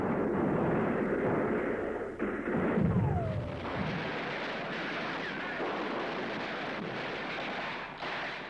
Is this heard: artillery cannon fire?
yes